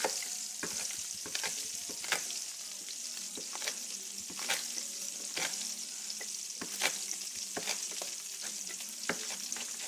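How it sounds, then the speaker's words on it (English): A knife chops green onions in a kitchen, quick irregular taps and short runs of cuts over a faint steady hiss, close and fairly quiet. "I'm gonna go ahead and chop up some green onions"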